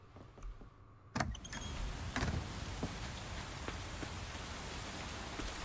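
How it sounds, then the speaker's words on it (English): Steady video game rain in Coral Island patters and hisses continuously after a brief quieter start, with occasional sharper drop sounds standing out against the wash. "Why is the rain so loud?"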